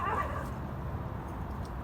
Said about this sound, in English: Wow, the dogs are really after the squirrels today.